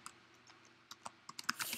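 Computer keyboard being typed on, a sparse run of quick clicking keystrokes that grows denser and louder toward the end, close by, with no talking.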